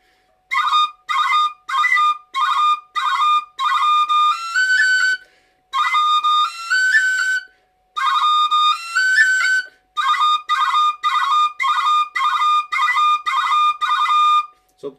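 A tin whistle plays a lively reel, The Glass of Beer, in bright clean bursts of quick notes with ornamental cran flourishes, separated by short breaths, solo and close with no accompaniment.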